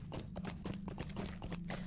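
Horse hooves clip-clopping in a video game, a harvest-festival grocer horse, a steady quick run of hoof clops at moderate volume with no talk over it.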